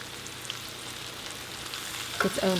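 Pork frying in its own rendered fat, no added oil, gives a steady soft sizzle throughout, with a few louder stirring scrapes near the end.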